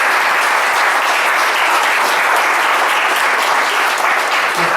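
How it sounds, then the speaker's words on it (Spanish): An audience at an open talk on the craft of cartoonists and illustrators applauds the speakers in a loud, steady wash of clapping that carries unbroken from start to finish. "un aplauso por favor a nuestros expositores"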